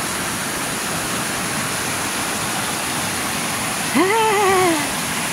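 Waterfalls along a rock pool trail near Sai Wan Beach, Sai Kung, give a steady, loud broadband rush of falling water, with a brief tonal whistle or call rising near the end.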